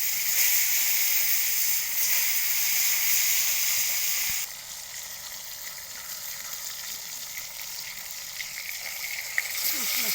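Pieces of chitol fish rubbed with salt and turmeric frying in hot oil, a loud continuous sizzle that drops suddenly to a quieter steady hiss midway, with a small clink toward the end.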